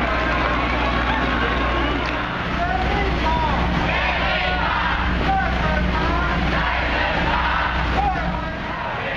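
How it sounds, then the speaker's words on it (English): A dense crowd at a street march in New Taipei City claps and cheers for marching students, with steady loud hubbub, shouts and yells filling the scene throughout, and a low engine rumble beneath for the first couple of seconds. "people here are clapping their hands and cheer up for the student going for the march"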